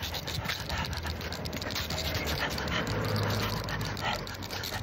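A dog out on a walk, with close panting, snuffling and faint whimpering over a steady rattle of movement, plus jingling and scuffing noises throughout.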